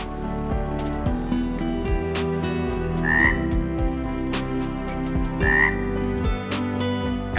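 Frogs croak loudly and repeatedly at Plitvice Lakes, deep rhythmic rattling calls close by, layered in a steady chorus with no talking.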